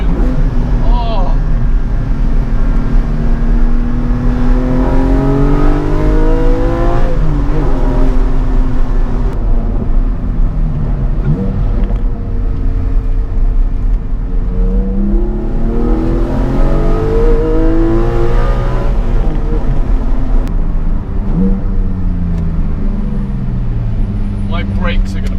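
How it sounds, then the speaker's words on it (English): A Ferrari F40's engine rises and falls in pitch through repeated revs as the driver downshifts to second, droning steadily underneath someone talking throughout. "I'm going to downshift to second here just for the sake of it."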